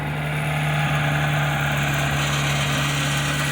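A Geo Tracker engine idling steadily with a continuous low hum and a faint rattle running underneath, close and constant throughout, with no talking.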